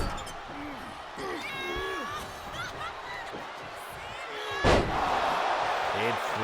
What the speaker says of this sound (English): Sid slamming Marlow down, and now up on the second rope, dropping that leg. You can hear the impact